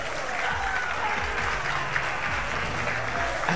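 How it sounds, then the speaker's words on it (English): Loud, sustained applause and cheering from a crowd at a Street Fighter IV fighting-game tournament in Puerto Rico, continuous and dense throughout with voices mixed into the roar. "the crowd is going nuts for Native."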